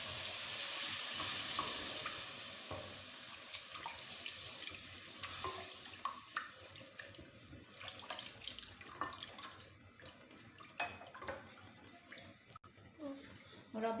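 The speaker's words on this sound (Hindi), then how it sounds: "और अब इसको मिक्स करते जाना ताकि मैदे की गुठलियाँ ना अंदर बने" Milk is stirred steadily into a flour sauce in a hot pan for chicken lasagna, giving a continuous sizzling, bubbling hiss with soft scraping that stays close and fairly even throughout.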